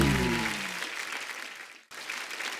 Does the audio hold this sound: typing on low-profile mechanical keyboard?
no